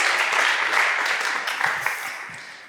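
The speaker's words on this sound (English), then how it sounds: "We should give a round of applause to our final fishbowl contributors." Audience applause for the final contributors at a university founding event, a dense steady wash of many hands clapping that gradually fades toward the end.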